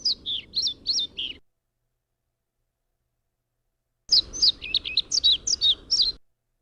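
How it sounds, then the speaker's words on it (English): A male pied flycatcher sings before mating, two bursts of bright, high warbled phrases separated by a few seconds of silence, clear and close with no voices. "this is a male pied flycatcher and what their bird song sounds like before they've mated"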